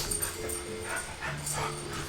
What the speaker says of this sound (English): I'm gonna apologize in advance for the puppy bark.